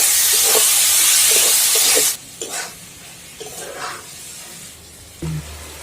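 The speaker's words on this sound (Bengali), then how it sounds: "এবারে আমি ওই ভিজিয়ে রাখা মুসুর ডালটা দিয়ে দিচ্ছি মশলার সাথে ভালো মতো মিশিয়ে নেব" Soaked red lentils dropped into hot oil with spice masala while cooking Dhaba-style masoor dal: a loud, steady steamy hiss and sizzle that cuts off abruptly, followed by soft intermittent stirring sizzles and scrapes.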